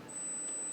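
A thin, high-pitched pure 8000 Hz hearing test tone sounds steadily for under a second over faint background hiss.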